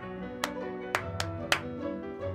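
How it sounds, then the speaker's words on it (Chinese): Four sharp hand claps tap out an uneven basic rhythm exercise, crisp and close, over a soft sustained musical background. "请听我打这个节奏，就是拍手啊"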